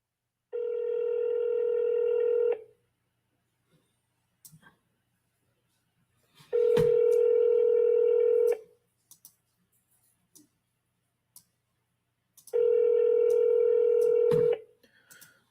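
Telephone ringback tone on an outgoing call, three long steady rings, each about two seconds, separated by roughly four seconds of silence, with faint clicks between them.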